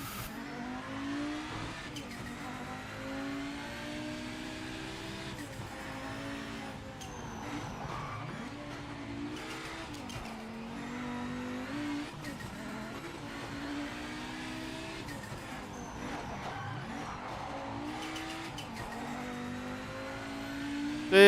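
Race car engine in the Project Motor Racing sim, droning steadily through a lap with shifting pitch as it revs and eases off for corners, moderately loud and continuous with no talking.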